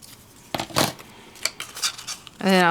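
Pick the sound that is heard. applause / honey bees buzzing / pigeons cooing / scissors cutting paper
scissors cutting paper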